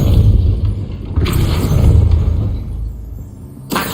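In Hogwarts Legacy, the Depulso spell forces a gate open with a loud, heavy boom and a rolling, grinding rumble that slowly fades, followed by a fresh burst at the end, with no voices.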